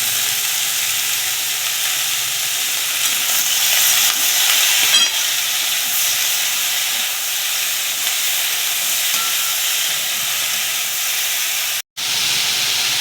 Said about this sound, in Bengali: পেঁয়াজ কলিটাকে ভালো করে ভেজে নেব